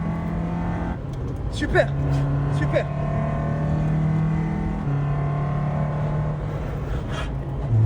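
A Lotus sports car on a race track holds a steady engine drone that rises in pitch as it accelerates, with people talking excitedly inside the car over the engine.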